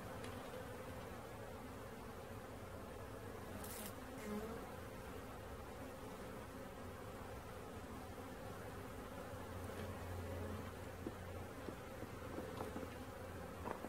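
A steady, dense buzzing of many honey bees fills the whole stretch, close and continuous, with a few brief sharper rustles.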